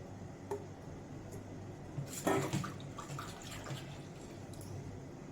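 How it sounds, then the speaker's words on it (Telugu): Water is poured into a simmering okra fish curry, a short splashing gush near the pot over a quiet bubbling background, no voices. "వాటర్ పోసుకోవాలండి"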